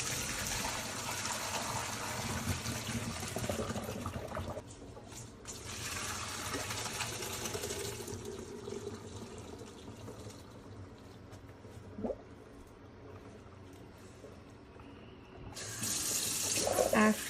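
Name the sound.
draining boiled elbow pasta in sink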